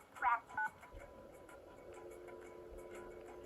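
Telephone keypad tones from the Nancy Drew video game Secret of the Scarlet Hand: two short, clear dialing beeps near the start, followed by a faint steady hum.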